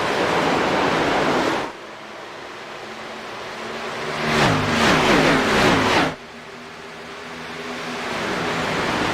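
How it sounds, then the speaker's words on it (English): Race cars in an iRacing Xfinity Series race at Kentucky zoom past, one pass swelling to a loud rushing roar before cutting off, heard alone between quieter stretches of steady engine drone. "Listen to these cars just zoom by."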